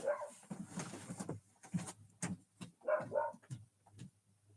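Outdoors, a dog yips and whimpers in short, high bursts that come in uneven clusters, fairly faint and slightly distant.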